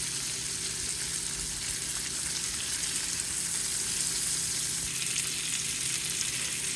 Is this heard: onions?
yes